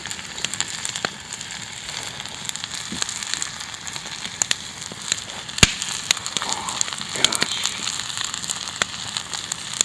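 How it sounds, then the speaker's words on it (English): Campfire at night by a lake, burning with a steady rushing bed of flame and frequent sharp pops and crackles, one especially loud snap midway, heard close and without talk. "She's a violent fire."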